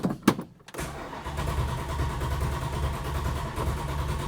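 A 1971 Plymouth Hemicuda's Hemi V8 gives a few brief cranking bursts, then catches and settles into a loud, steady, rumbling idle close by.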